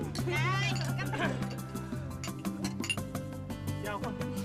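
Glasses clink together in a toast: bright, sharp taps ring out over steady background music, with voices in the room around them.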